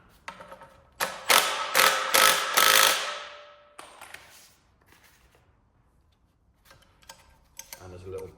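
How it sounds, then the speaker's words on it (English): Nut gun on a 27mm nut of a 2018 Ford Transit Connect, giving several close, rapid rattling bursts over about two seconds, then fading into quiet with small clicks of handling and a little speech near the end. "we've got a 27mm, which I will do with my nut gun"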